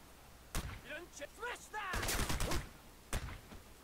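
Unsuppressed gunfire in a video game, a few loud sharp shots spread through the moment, while a voice speaks in between the bursts.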